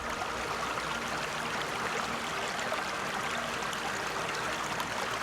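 Ice-cold water flows steadily and fairly loudly outdoors in a continuous, even rush, while a small lead spindle whorl is rinsed clean on the grounds of a Georgian hall.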